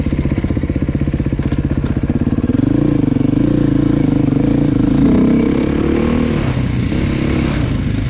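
A 2020 Beta dual sport motorcycle being ridden, its engine loud and close with rapid pulsing firing, then revving up and holding a higher steady drone with wind and some clatter.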